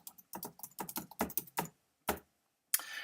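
Short bursts of keystrokes on a computer keyboard as a bit of text is written, quick crisp taps in clusters, then a pause, a single tap and a final louder strike, all close and clear with no talk.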